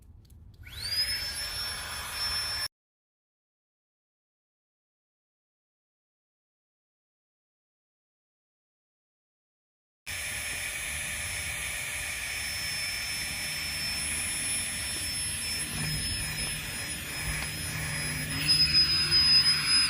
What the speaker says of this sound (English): Simply fit it into the top, open this, put over the top of there, and start pumping.